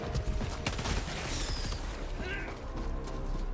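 Auto rifle in Helldivers 2, a rapid burst of gunfire with mechanical clatter and battle noise close up, fading into lingering game sounds.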